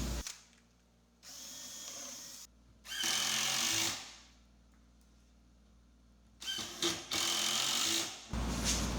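A finish nailer tacks dividers into small storage cabinet boxes, then a power driver runs screws in from top and bottom, heard as loud separate bursts of whirring driving with quiet gaps between them and no talk.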